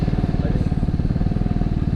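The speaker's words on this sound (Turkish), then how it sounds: "Motosikleti çok iyi bir yere çekmem lazım." A Vespa Primavera scooter engine idles with a steady, throbbing low putter, close and continuous, as the scooter is maneuvered to park at a hotel entrance in Side, Antalya, on a very hot day.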